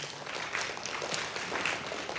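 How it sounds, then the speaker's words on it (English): Audience applause at a conference opening plenary on internet governance, a soft, continuous wash of clapping from a large hall, steady and fairly distant, with no voices over it. "Our applause for Mr. Marcus Coomer"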